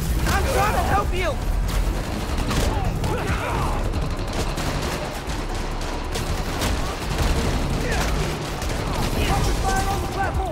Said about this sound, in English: Police and escapees are shooting it out.